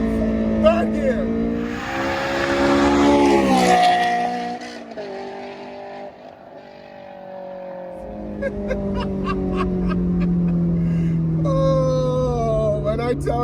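A 2007 Honda S2000 engine revs hard and climbs through first, second and third gears, pitch rising and dropping with each shift, loud and close, with a brief quieter lull midway.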